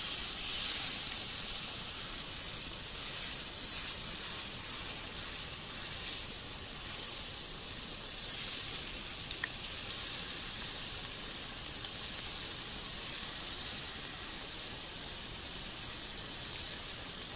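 Food sizzles and fries over a campfire during rough camping in the bush of south-west Western Australia, a steady close hiss with light crackle, continuous and alone without talk.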